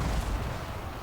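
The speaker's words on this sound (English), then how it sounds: "The cannons going to continue firing away" Cannon fire in a fantasy strategy battle game, heard as a brief, dense, booming rumble of artillery with no break over a short stretch.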